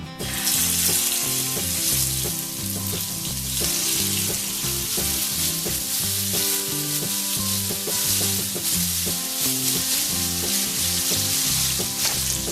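Okra pieces shallow frying in hot oil in a pan, a loud, steady, dense sizzle with constant crackle filling the whole stretch, no voices over it.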